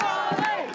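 Protest crowd cheering and shouting for Pauline Hanson on stage, a dense roar of many voices with a rising swell, loud and close throughout.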